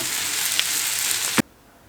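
Grated potatoes sizzle steadily as they are stirred and sautéed in a pan, a close, even frying hiss with a faint scrape before it cuts off abruptly.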